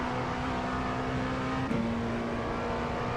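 An LMP2 prototype race car at Sebring in iRacing holds a steady high engine note, then briefly dips with a gear change before pulling again under throttle, loud and close with no talk.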